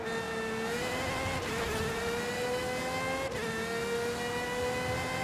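Aston Martin Valkyrie AMR Pro engine in Forza Horizon 5, a high-pitched, steady howl rising through gears at full throttle, close and constant, with two quick shifts breaking the tone.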